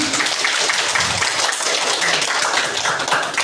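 Pupils in a classroom applaud their groups' work, a loud continuous patter of many hands clapping together, close and unbroken throughout.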